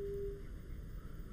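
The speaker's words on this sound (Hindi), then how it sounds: "ये हमारा फ़ोन उनसे कट गया" A telephone line drops during a live call-in TV show: one short, steady tone sounds for a fraction of a second and fades, leaving a low, faint hum on the line.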